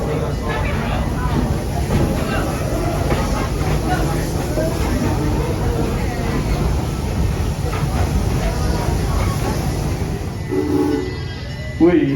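A Busch Gardens Tampa Serengeti Express tourist train rolls along with a steady rumbling clatter of wheels and cars, loud and continuous, with voices and announcements talking over it.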